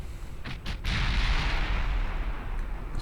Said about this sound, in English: Settle this like God intended with naval artillery.